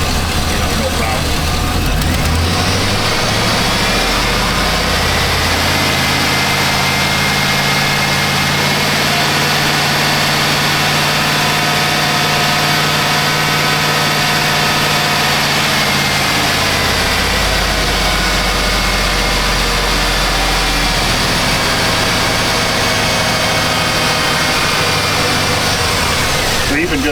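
Chevy 2500HD pickup truck engine idling with a running fault: a steady low rumble and broadband hum that persists throughout, loud and close, with a slight swell in the low end midway.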